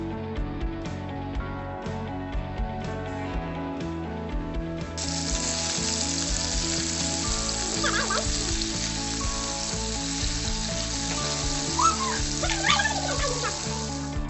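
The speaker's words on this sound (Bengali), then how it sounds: "তেলটা গরম হয়ে আসলে মাখিয়ে রাখা মাছগুলো আস্তে আস্তে তেলের ভিতর ছেড়ে দেব।" Spiced fish pieces sizzle steadily in hot oil in a home kitchen pan, loud and continuous, with the sizzle swelling and brightening about five seconds in as more fish goes into the oil, with no talk.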